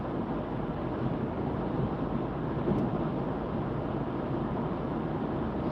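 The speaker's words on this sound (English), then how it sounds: "It's quite windy tonight." Steady, broad roaring wind at night buffeting the microphone on a road trip, constant and fairly loud with a low rumble underneath and no voices.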